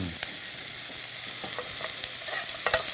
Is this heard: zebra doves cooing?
no